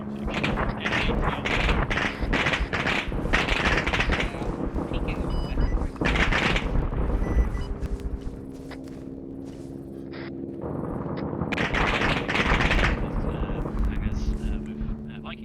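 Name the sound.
gunfire in Arma 3 video game night operation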